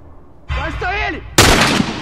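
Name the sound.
gunshot in the video game The Last of Us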